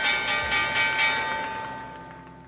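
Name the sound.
stock market opening bell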